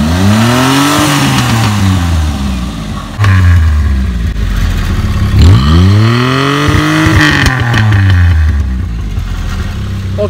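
A Maruti 800 car engine with a modified valvetronic exhaust revs hard and loud nearby, several rising and falling sweeps with a clattering, rasping exhaust note between throttle blips.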